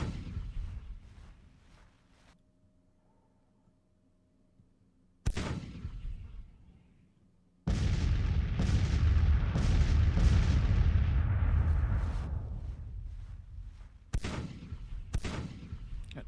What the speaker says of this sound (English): They're broken just with artillery fire.